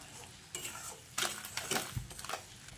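A spoon stirs lemon juice into sugar syrup in a pot for khaja, with a few close metallic scrapes and clinks against the pot over a faint bubbling background, with no voices.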